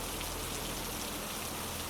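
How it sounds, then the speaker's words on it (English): Steady drizzle falls on a canopy of branches overhead, an even, dense hiss of tapping drops with no pauses, continuous and close. "the persistent drizzle tapping on the canopy of branches above"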